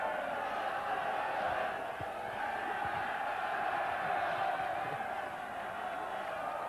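A packed football stadium crowd roars during a 1985 Cup Winners' Cup quarter-final, a distant, sustained wall of cheering and chanting that stays steady and dense throughout.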